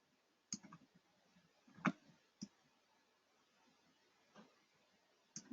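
Computer mouse clicks during a software demo of a 3D medical flow model: a handful of sharp, quiet clicks spaced irregularly over a few seconds, with no talking.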